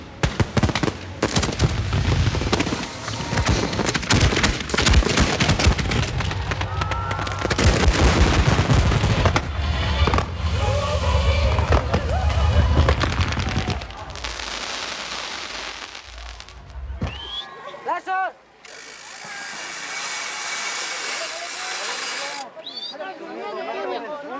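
Fireworks launched from an electronic firing system, a rapid barrage of loud cracks and bangs that thin out into scattered pops, with talk heard partway through.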